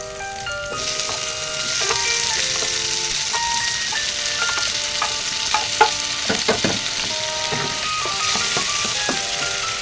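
Tomatoes go into a hot frying pan for galunggong sarciado, a Filipino fish dish, with a steady sizzle and frying hiss broken by clinking, scraping utensil taps against the pan, close and moderately loud.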